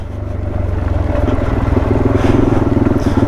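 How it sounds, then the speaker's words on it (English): A motorcycle rides along a rough bush track through logs and lantana, its engine droning loud and close with a steady pulsing throb that rises slightly as it pushes on, no talking over it. "Nice little bit of bush riding."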